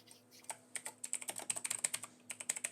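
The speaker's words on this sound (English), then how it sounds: "Don't mind me, I'm feeling it typing." Fast, uneven typing on a computer keyboard, a close run of crisp clicking keystrokes with a short pause partway through, heard alone.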